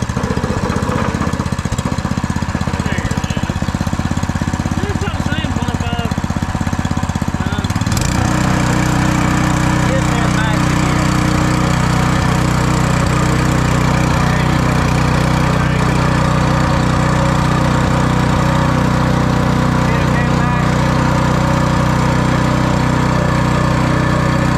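A new Harbor Freight Predator 224 small engine for a go-kart runs loudly and steadily up close, its pitch dropping partway through as it settles from a higher speed to a lower, rattling chug.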